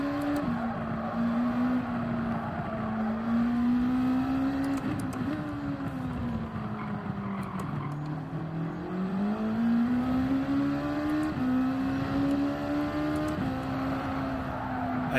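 A race car engine in Gran Turismo 7 drones steadily through a hilly, twisty time trial, its pitch climbing and dropping with gear shifts and braking, close and continuous with no talking.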